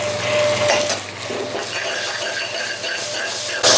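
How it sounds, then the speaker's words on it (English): Ground curry powder, coriander and cumin stirred through hot oil for a brinjal bhajee, a loud steady sizzle with scraping utensil strokes and a sharp clatter near the end. "make sure you hit it in the oil just like this"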